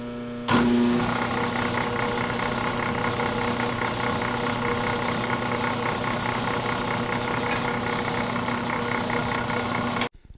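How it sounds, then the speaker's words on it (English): A steady mechanical whir of a drill running a number 4 center drill continuously with a constant tone, starting abruptly and stopping at the end, close and fairly loud. "We're going to drill with a number 4 center drill."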